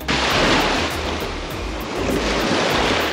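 Strong wind roars across the microphone at a cold seashore, a loud, broadband rush mixed with the wash of surf that stays steady throughout.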